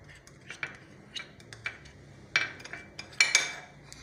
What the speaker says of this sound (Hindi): अब हम ये मायोनीज और केचप को मिक्स करेंगे।